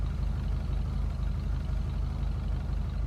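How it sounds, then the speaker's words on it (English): An Impaler SZ car engine in GTA Online idles steadily with a low, even rumble and faint rhythmic pulsing, with no voices or other sounds over it. "The idle sound is nice."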